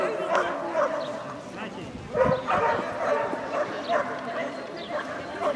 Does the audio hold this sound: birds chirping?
no